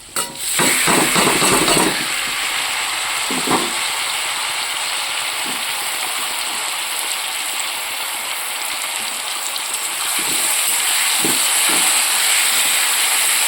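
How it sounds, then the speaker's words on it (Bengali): Potatoes fry in a wok with a steady, loud sizzling hiss throughout, broken by occasional scraping clinks of a utensil against the wok. "আর এইদিকে এই যে আলুটা ভাজা করছি।"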